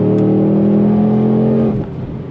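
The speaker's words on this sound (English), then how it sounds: "When I give it like wide open, it just wants to be all over the road." Supercharged Ford Mustang Dark Horse with a Whipple blower pulling at wide-open throttle: a loud, steady engine drone that holds for under two seconds, then drops off sharply as the throttle lifts.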